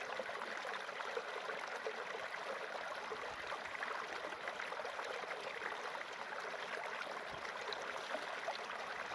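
A Dartmoor moorland stream trickling and splashing steadily as a water bag is filled, a soft continuous hiss of running water heard close and fairly quiet throughout.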